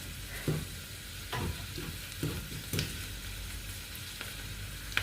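Steady sizzling of mustard seeds and turmeric frying in hot oil, with occasional soft clinks and stirring scrapes breaking through.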